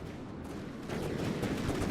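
A video game battle with missiles and gunfire: a short, faint burst of distant shots and blasts rises a little midway, with no voices.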